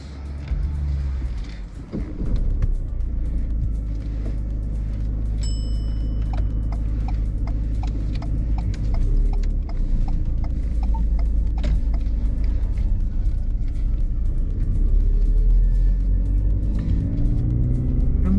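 A car pulling away during a mock driving test, heard from inside with a steady low engine rumble that builds as it accelerates, plus the regular ticking of an indicator through the middle.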